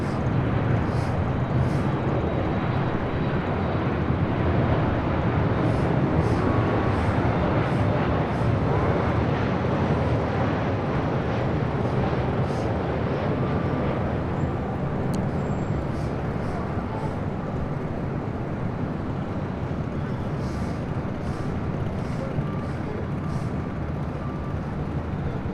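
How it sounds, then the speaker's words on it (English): An Air Canada Boeing 737 MAX 8 arriving at LAX from Vancouver rumbles as a broad, steady jet roar, distant and sustained, with a voice talking over it. "This is Air Canada 556 coming in from Vancouver on a MAX 8."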